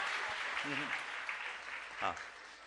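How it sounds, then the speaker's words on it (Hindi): An audience at a Jain monk's religious discourse applauds donors, a steady, fairly faint wash of clapping heard from a distance, with a brief voice breaking through. "जोरदार तालियों के साथ आप उनका सत्कार करें"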